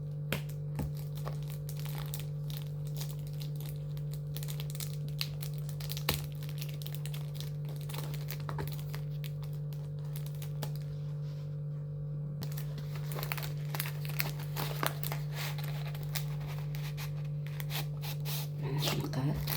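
A package's wrapping is opened by hand, giving quiet, irregular crinkling and rustling over a steady low electrical hum throughout.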